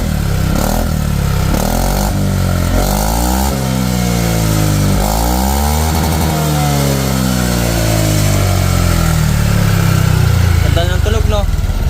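A Honda Click 160 scooter fitted with a Sun Silent Killer exhaust revs up and down repeatedly, loud and close. The engine note rises and falls in sweeping surges over a steady idle.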